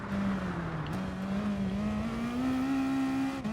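A race car in Gran Turismo Sport powers out of a wet-track curve, its engine droning loud and steady as the pitch climbs gradually under acceleration, with no voices.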